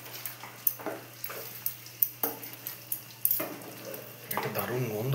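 A spoon stirring a Bengali chicken curry masala freshly mixed with beaten yogurt in a pan, giving repeated soft scraping strokes over a low steady sizzle, with a voice speaking near the end.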